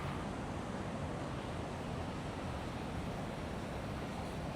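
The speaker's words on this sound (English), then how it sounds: "There are big waves in the back." Big 2-3 metre ocean waves breaking at Da Nang beach after a storm, a steady broadband roar of surf with wind, continuous and faint, without distinct individual breaks.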